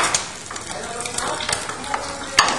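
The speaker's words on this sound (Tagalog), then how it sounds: "Kumukulo na yung karne mo." Meat cooks in a pot on the stove, a close, busy bubbling and sizzling with scattered clinks of a utensil and one sharp knock at the end.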